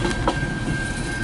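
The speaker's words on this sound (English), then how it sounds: "That's a long train." A long CN eastbound mixed freight train led by locomotives 8904 and 8804 rolls past in Port Huron, Michigan, a close, steady rumble of railcars with faint wheel clatter and a thin squeal.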